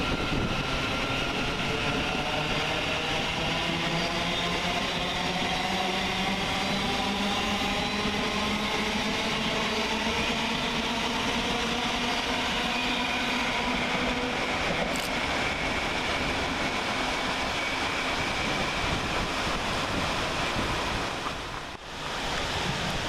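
A Class 700 Govia Thameslink electric train departs Luton station on a Bedford to Gatwick Airport service, its rising motor whine climbing in pitch as it pulls away, a steady broad rumble alongside, with a brief dip near the end.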